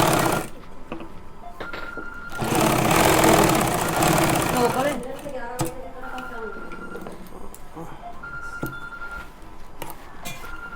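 A sewing machine stitches a pocket onto pajamas in a loud whirring run of a couple of seconds, then quieter mechanical clicks and handling noises follow.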